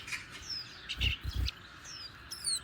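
Small white-eyes chirp near fresh loquats with bright, scattered tweets and short call phrases, joined by a few soft low thumps in the middle. No one speaks.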